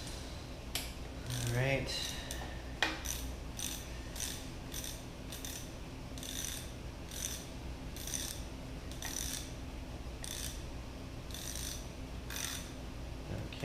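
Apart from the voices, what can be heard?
12 mm ratchet tightening water pump bolts on 4AGE engine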